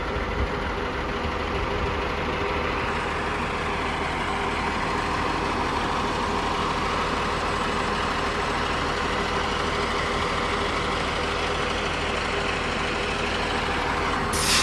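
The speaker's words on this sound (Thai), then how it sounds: "เบรกลมนะครับ เบรกลม ลมเต็ม ลมตัดครับ" Air brake on a rebuilt Caterpillar 140H motor grader hissing steadily over the rumble of its idling diesel engine, loud and close, with a brighter burst of air right at the end.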